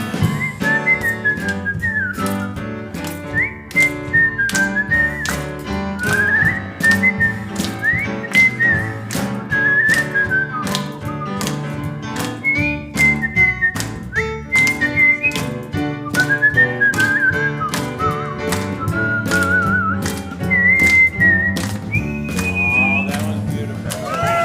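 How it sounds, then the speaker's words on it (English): A man whistles a lilting melody alone at a church service, loud and steady over about twenty-five seconds of phrased notes, with instrumental accompaniment beneath. "do a little whistling for us"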